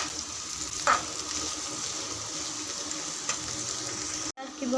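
Breakfast ingredients fry and roast in a pan with a steady sizzle, a couple of brief scraping stirs cutting in, and a sharp clatter near the end.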